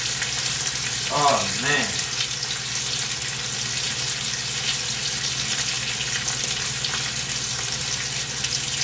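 Bacon sizzles and crackles steadily in a pan throughout, a constant dense frying hiss with a brief spoken exclamation early on.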